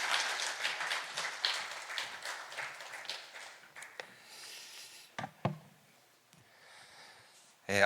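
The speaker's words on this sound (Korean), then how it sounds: "나오실 때 큰 박수로 맞이하겠습니다." Audience applause welcomes a speaker at a church healing seminar, a loud burst of many hands clapping that gradually thins and fades, followed by a few scattered sounds and a sharp bump at the end.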